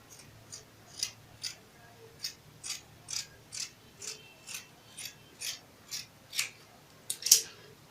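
Scissors snip through fabric for a turban cap, about a dozen crisp, evenly spaced cuts close by in a quiet room, ending with a slightly sharper final snip.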